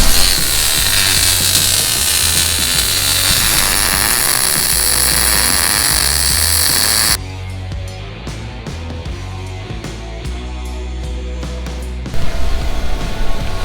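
Power tool work on a Bronco prerunner roll cage in a garage: a loud, steady, harsh hiss and whine that stops abruptly partway through, then lower shop noise before a loud burst returns at the end.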